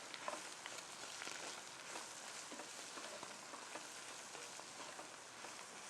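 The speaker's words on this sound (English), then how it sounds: "Stir all that in." Ground cumin and spices are stirred into a cooking pot over a soft continuous sizzle, with faint scraping from the stirring, quiet and close.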